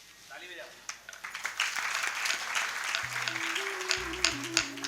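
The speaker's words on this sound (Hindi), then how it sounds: "ताली बजाओ।" An audience claps during a Bhagavat Katha gathering at a Gaudiya Math temple in Mathura, a dense, rising patter of applause joined by sustained musical tones.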